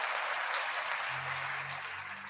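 A podcast audience applauding steadily, a dense wash of clapping that stays fairly loud throughout, with a faint low tone emerging partway through.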